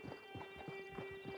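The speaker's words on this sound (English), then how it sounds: "Get on the horse there." Horse hooves clip-clop in Red Dead Redemption Online on PS5, a steady, fairly quiet rhythm of hoofbeats over a sustained musical tone.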